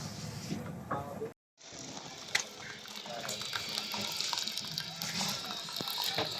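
Water poured into a samovar, a running, filling stream that starts, breaks off briefly, then resumes steadily at moderate level, with faint background voices.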